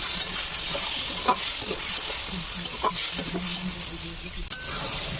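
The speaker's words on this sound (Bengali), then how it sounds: "ভালো করে কষিয়ে নিয়েছি মশলা।" A spice paste of onion, tomato, turmeric, cumin and coriander powder with a splash of water is stir-fried in a pan, heard up close. It gives a steady hiss with occasional light utensil clicks and scrapes, and no voices.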